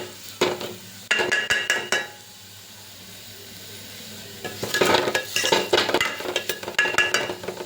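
An onion mixture with turmeric powder frying in a pan, with bursts of spoon scraping and clinking against the metal over a soft sizzle, a pause in the middle, then more vigorous stirring.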